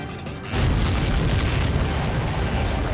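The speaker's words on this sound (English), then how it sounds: "Did you see that explosion? Looks like that's one of them down." A large explosion of an enemy supply ship in the air-combat video game Ace Combat 7, a sudden loud, deep boom after half a second that rolls on as a heavy, sustained rumble to the end.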